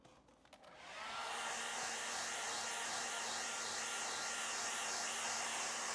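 A hair dryer switches on and then blows steadily, a loud close whooshing roar with a faint wavering whine, drying paint on a drawing of French bread.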